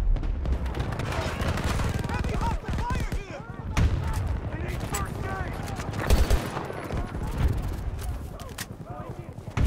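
Battlefield 2042 combat gameplay with continuous gunfire, bursts of automatic weapons and booming explosions including a thrown grenade, dense and loud throughout, with voices calling out over the battle.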